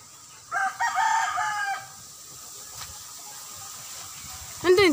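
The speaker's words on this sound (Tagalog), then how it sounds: "Ayan po yung matapang na manok oh" A fighting rooster at a gamecock farm crows once, a loud close harsh call of several rising notes, followed by quieter background noise and the start of another crow at the end.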